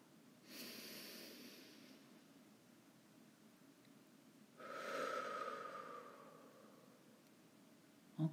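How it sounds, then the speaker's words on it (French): Two slow, deep breaths during a guided meditation session, a long airy inhale followed later by a fuller exhale, soft and close with no talking. "Inspirez profondément en gonflant le ventre et la poitrine."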